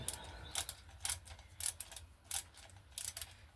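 A torque wrench tightens bolts on a modern bike with a series of short ratcheting clicks in quick bursts spaced about half a second apart, heard close and quiet, with no talking.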